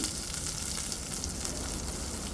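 Mustard seeds, ginger, garlic and curry leaves sizzle in hot oil, a dense, steady crackling hiss that stays close and loud for the whole stretch with no talking.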